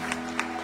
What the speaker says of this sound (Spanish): Démosle un aplauso muy fuerte a nuestro Señor.